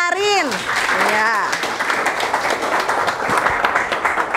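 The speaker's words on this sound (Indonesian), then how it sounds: "Tepuk tangan dulu buat Arin" A classroom of students claps for a classmate, a lively burst of hand claps that carries on steadily and fairly loud while a voice speaks over the start.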